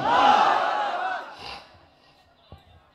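A large crowd at a mosque and madrasa gathering shouts a loud, unified chant in reply to a takbir call, swelling at once and then fading away within about two seconds, followed by faint scattered noise.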